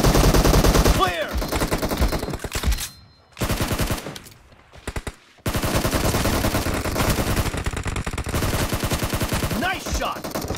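Rapid automatic gunfire from PUBG Mobile in a team deathmatch, loud sustained bursts with brief pauses and a near-silent gap midway before firing resumes.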